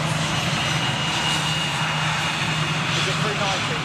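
Austrian Airlines Airbus A318 jet with CFM56 engines, a steady broad roar of passing engine noise holding evenly throughout, with a faint voice underneath.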